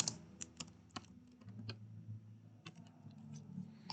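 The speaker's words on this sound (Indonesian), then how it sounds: "Kita ketik alamat." Computer keyboard typing at a desk while entering database data, a faint, close, irregular stream of light key clicks and taps with no one speaking.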